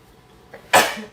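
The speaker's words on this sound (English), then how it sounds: "I think I'm going to sneeze." A single sharp sneeze bursts out after a faint intake of breath, loud and close, then quickly fades.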